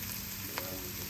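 Onions sautéing in butter in a cast iron skillet over medium-high heat, an even, steady sizzle with a faint scrape.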